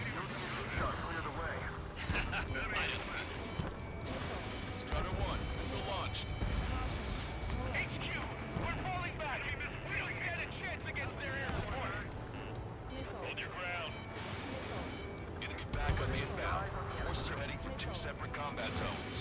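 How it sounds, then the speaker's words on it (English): Jet combat in Ace Combat 7 keeps up a dense rumble of engines, gunfire and explosive bursts, with a missile launch mixed in, while radio voices talk over the din throughout. "Strider 1, missile launched"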